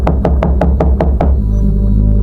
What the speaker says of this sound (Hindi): जल्दी जाकर दरवाजा खटखटाया